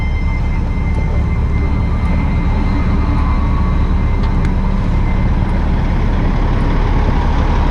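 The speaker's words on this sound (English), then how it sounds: "let's go turn the pump on, and we'll come and we'll open up the valve and start pulling" A truck's PTO-driven pump runs at an oilfield site while pulling dirty freshwater for a workover rig, giving a loud, constant engine-and-pump drone with no break and no voices.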